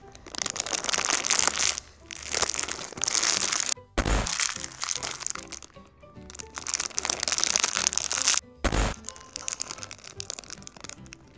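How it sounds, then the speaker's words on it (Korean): A Cheetos snack bag crinkled and crushed close to the microphone in several long, loud bursts of crackling plastic, separated by brief pauses, with no talking. "이제 마지막 봉투 소리로 마무리하겠습니다"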